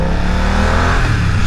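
Motorcycle engine running steadily while riding, a loud, continuous drone with dense low harmonics and no voices.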